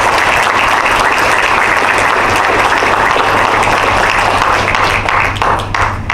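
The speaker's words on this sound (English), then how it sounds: "please join me in a round of applause for Team Tellus" An audience at a military change of command ceremony in Bahrain gives a loud, sustained round of applause, dense clapping throughout that tapers slightly near the end.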